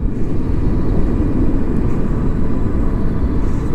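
A dual-battery electric bike runs at full throttle, heard as a steady, loud, unbroken roar of wind and rolling rumble close to the rider, with no voices.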